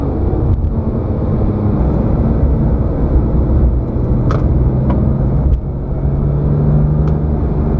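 Porsche 997 GT3 RS Gen 2 engine on the move, a loud, steady low drone and road roar from inside the car with a few faint clicks, with no talk.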